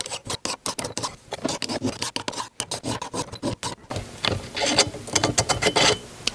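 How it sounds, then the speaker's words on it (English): Hand filing of burrs on a Johnson outboard engine part: rapid, rhythmic rasping strokes, close and fairly loud, continuing steadily with brief pauses and no talk. "So I need to do some filing and get those burrs off of there."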